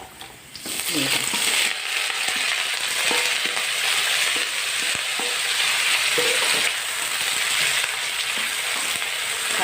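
Mixed vegetables stir-fried with fermented pork sausage in a hot pan, producing a loud steady sizzle throughout with repeated scrapes and knocks of a spatula against the pan.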